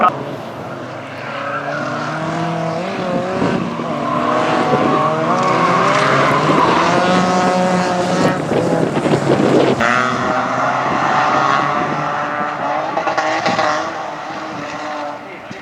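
Race cars corner at a Finnish midsummer championship event, their engines revving loudly with sweeping pitch changes and tyres hinting at slides, while a commentator talks throughout.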